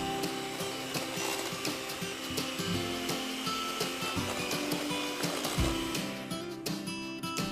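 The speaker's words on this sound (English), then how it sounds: "You need to beat the eggs and sugar together until they're really thick and foamy." Eggs and sugar beaten with electric beaters give a continuous motor whir with a rhythmic rattling clatter against the bowl, steady and moderately faint throughout.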